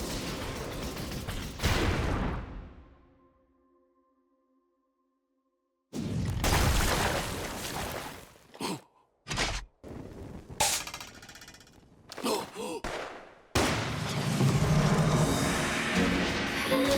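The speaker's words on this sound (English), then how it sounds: "Are you shooting artillery from the spider again, or do you have a sniper?" Gunfire and artillery from the Ghost in the Shell anime ring out as loud, abrupt bursts and blasts, broken up by sudden gaps of near silence.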